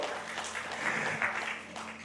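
A church congregation applauds briefly, a soft, somewhat distant patter of clapping over a couple of seconds.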